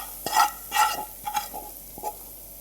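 Garlic chutney tempering with asafoetida in a kadai, heard as four short bursts of stirring and sizzling with quiet gaps between them and no talk.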